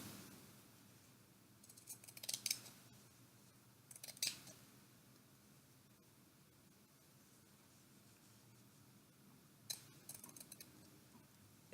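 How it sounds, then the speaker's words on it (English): Scissors snipping fabric into thin half-centimetre fringe strips on a shirt, with a few short bursts of quiet cuts separated by long silent gaps, faint and close. "I'm just going to be cutting little, like, half-centimeter strips"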